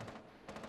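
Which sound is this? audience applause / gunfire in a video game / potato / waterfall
gunfire in a video game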